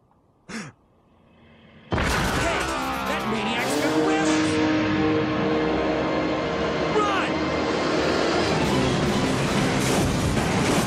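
A vehicle drives toward the player in the video game Resident Evil 2. A brief vocal sigh comes first, then a sudden loud engine roar that holds steady and close, with screeching and clattering over it.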